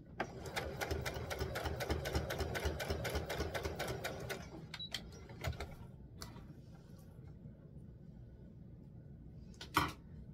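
A sewing machine stitches a small doll's formal dress bodice in a steady rapid run for about four seconds, then stops, followed by scattered clicks and a brief louder rattle near the end.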